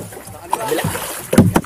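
A small outrigger fishing boat moving across water at night off Sibale Island, Romblon, Philippines, with low engine or hull noise and light splashing at close range, a few brief louder knocks near the end.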